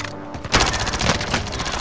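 Rapid video game gunfire erupts after a short lead-in, a loud close burst of quick repeated shots that continues to the end.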